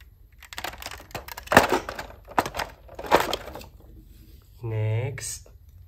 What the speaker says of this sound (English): excavator hammer.